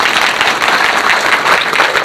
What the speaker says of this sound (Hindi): नारी शक्ति के लिए जोरदार तालियां एक बार।